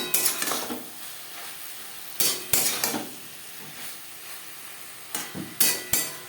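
A spoon stirs pumpkin stalks and potatoes with cumin powder in a pan, making a few loud scraping bursts in quick clusters over a low, steady sizzle.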